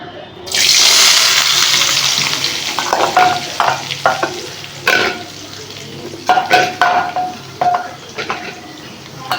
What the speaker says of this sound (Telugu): ఇప్పుడు మనము ఇందులో ఉల్లిగడ్డలు వేసుకుందాము